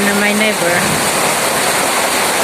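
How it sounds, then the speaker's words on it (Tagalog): Heavy rain pours steadily outdoors at a nature spot, a dense broadband hiss filling the whole stretch, with a voice briefly heard over it at the start. "Heavy rain, heavy rain."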